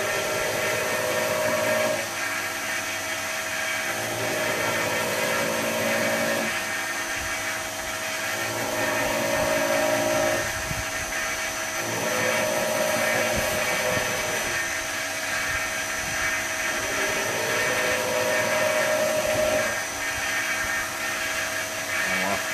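Belt grinder with a 180 grit belt working a piece of steel, a steady whirring hum with repeated passes that dip and rise every few seconds, continuous and fairly close.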